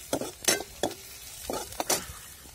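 Red onions frying in a pan for a dal vada curry, a soft sizzle broken by several scraping stirs of a spoon, close and moderately loud with no voices.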